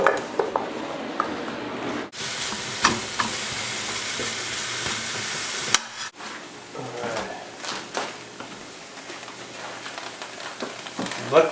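Frozen sausage sizzles and crackles in a pan for a stir fry. A sharp hiss bursts in as the sausage hits the hot pan, and irregular scraping and frying noise follows while a voice speaks in places.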